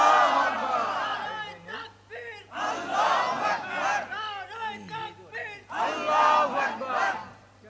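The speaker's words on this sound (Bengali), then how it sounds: "একটু ময়দান কাঁপিয়ে আল্লাহু আকবার বলা যায় না?" A large gathering at an outdoor Islamic sermon chants the takbir in loud unison, with several rhythmic call-and-response waves of voices rising and falling over a steady low hum.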